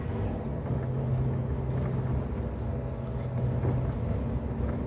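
A car engine climbing an uphill road while shifting gears gives a steady, fairly faint low hum and rumble with no clear break or change in pitch.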